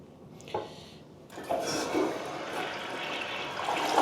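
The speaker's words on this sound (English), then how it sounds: "Flush is good." A household toilet flushes in a bathroom, a close rushing swirl of water that starts after a couple of brief knocks and keeps gushing to the end.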